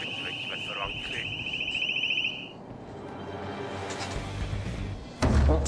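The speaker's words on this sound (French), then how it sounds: "Je croyais Franck s'occuper des alarmes." Alarm ringing inside a PlayStation VR video game: a steady high electronic beeping tone holds for about two and a half seconds, then stops, followed by rumbling game sounds and a heavy thud near the end.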